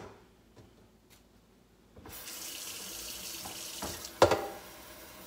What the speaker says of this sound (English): I know I'm using sink water, whatever.